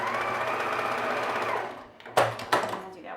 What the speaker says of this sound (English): you're going to go ahead and sew that at a 1/2 inch seam allowance